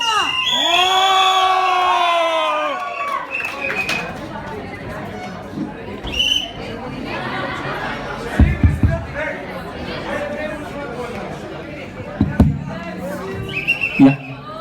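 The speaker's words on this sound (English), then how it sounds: "Thank you guys for such an amazing cheer." A college audience at a stand-up comedy show cheers and whoops loudly at first, then the noise settles into scattered crowd chatter with a few bumps and claps close by.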